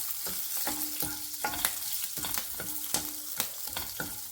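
Six or seven chopped green chillies fry in hot oil as tempering for a fenugreek-leaf chutney, with a soft sizzle under regular clinks and scrapes of a stirring spoon against the pan.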